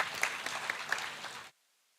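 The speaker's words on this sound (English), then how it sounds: "Please have a round of applause for him." Applause from an audience at a student induction event, a brisk patter of many hands clapping at moderate level that cuts off abruptly into near silence.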